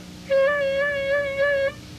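A single harmonica note held about a second and a half, its pitch wavering unsteadily up and down instead of dropping into a true bend, loud and close with no talking.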